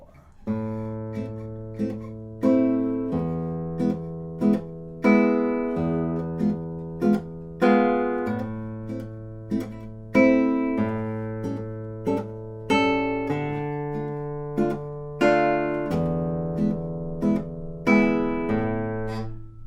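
Plucked classical guitar chords in a repeating pattern: two short, clipped staccato strums followed by a longer legato chord left to ring, played solo and close.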